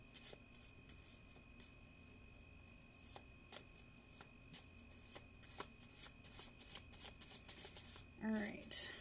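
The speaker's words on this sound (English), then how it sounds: "we're going to go ahead and pull a couple love cards while we're at it" Tarot love cards being shuffled by hand, a run of soft, irregular riffling and slapping close by, with a faint steady hum in the background.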